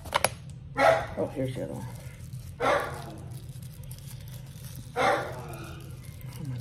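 Dogs barking indoors, three separate short barks spaced a couple of seconds apart, moderately close, with a person talking briefly in between.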